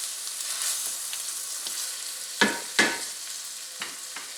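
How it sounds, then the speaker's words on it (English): Canned tomatoes with their juices are stirred into a meat mixture for a tortilla casserole, giving a soft continuous sizzle broken by two louder spoon scrapes and a few lighter knocks. "And stir that into the meat mixture"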